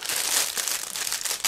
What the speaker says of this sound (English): So now I'm trying to tear apart this plastic bag because it was sealed together with one of the plastic bags inside.